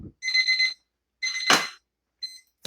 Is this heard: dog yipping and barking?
no